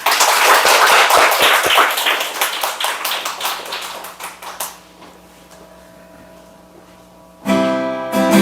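A congregation applauding at a Sunday afternoon church revival service, dense clapping that thins to scattered claps and dies out after about five seconds, then a short hush before a louder tonal sound starts.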